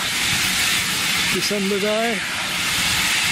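A steam locomotive hisses steadily and loudly at Bishops Lydeard station before a Santa Express run on a blowy December day, with wind noise mixed in and someone speaking briefly over it.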